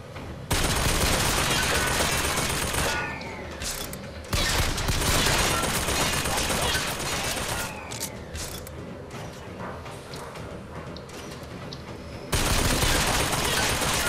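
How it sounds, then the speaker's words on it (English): Loud, dense bursts of automatic gunfire in the video game BioShock Infinite, sustained volleys from several directions with brief lulls between them, and no speech over the shooting. "I'm getting shot from everywhere"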